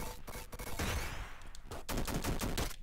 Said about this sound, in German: Sogar nach unten schießen.